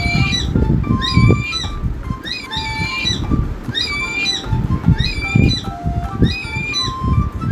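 A kiwi bird gives repeated harsh squawking calls at fairly regular intervals, loud and close, over a rhythmic tonal background.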